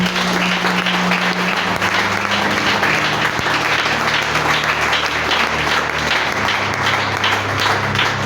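A church congregation applauds in a dense, continuous wash of clapping, loud and sustained throughout, with a faint voice or tone murmuring underneath.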